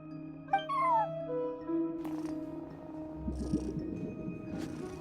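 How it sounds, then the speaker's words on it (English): A cat in a video game meows at a front desk, with a short rising call near the start and a second fainter cry later over a steady hum of game ambience and music. "cat watching over the front desk"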